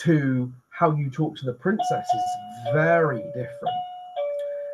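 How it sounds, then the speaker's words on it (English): A doorbell chimes in sustained tones over someone talking, with the ringing continuing clearly after his speech ends. "That's my doorbell, but I'm not expecting anyone"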